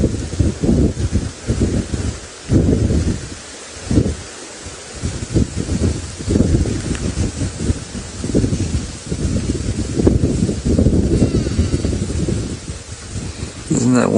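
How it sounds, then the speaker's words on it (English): Grass rustling in the wind during a sunset safari drive, a constant breathy swish that swells and fades in gusts, with heavy wind buffeting on the microphone and a few quiet gaps. "Just try and listen to the grass moving."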